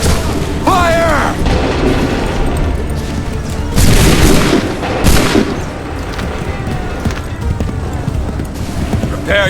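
Cannon volley in Assassin's Creed 3, fired on shouted command: several heavy booming blasts around the middle, with crowd noise, horse hooves and shouting voices throughout.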